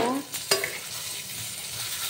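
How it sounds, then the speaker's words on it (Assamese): Eggplant sizzles steadily in hot oil while a utensil stirs it, with one sharp scrape near the start and a constant close, hissing fry throughout. "এয়া ভাজিম বেঙেনা"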